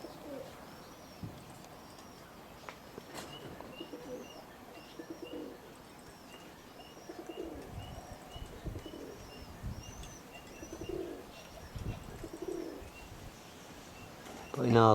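Roller pigeons coo faintly in the background of a quiet loft, with soft chirps and low murmuring throughout and a sudden louder rustle at the very end.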